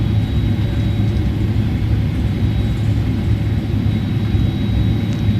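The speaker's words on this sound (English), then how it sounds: "let's start the APU then" Steady low rumble and whine of an Airbus A310 auxiliary power unit spinning up in Microsoft Flight Simulator, a continuous droning hum with a faint high tone, constant and fairly loud throughout with no talk.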